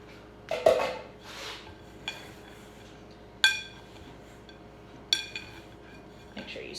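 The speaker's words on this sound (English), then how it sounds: "I am going to go in with this spatula to get the flour off" A spatula knocks and scrapes against a mixing bowl while clearing flour, giving several sharp clinks spaced a second or so apart with quieter scraping between, close and moderately loud.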